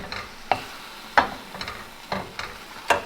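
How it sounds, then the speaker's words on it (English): Garam masala stirred into a pan of paneer butter masala, with a few scraping strokes of a spoon against the pan, roughly every half second to second, over a faint steady sizzle. "Let me put this to the side and start mixing."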